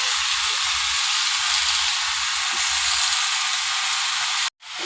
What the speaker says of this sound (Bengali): দেখো আমি রান্নাটা করি, পালং শাকগুলো এক এক করে দিয়ে দিই।